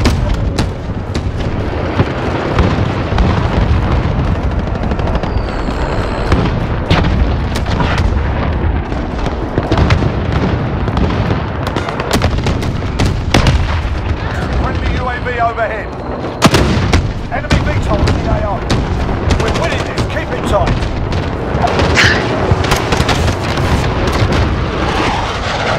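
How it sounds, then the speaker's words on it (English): Heavy cruise missile strike explosions in the Modern Warfare shooter thunder amid continuous battlefield gunfire, loud and dense throughout, with booming impacts layered over rattling shots. "Allied cruise missile away."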